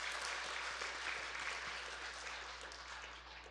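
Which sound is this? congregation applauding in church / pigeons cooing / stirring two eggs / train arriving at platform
congregation applauding in church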